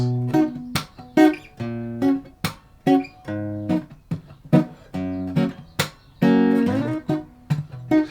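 Acoustic guitar strums the intro chords of a song, a steady sequence of ringing chord strikes close up, each strum sharp and decaying, with no voices over the playing.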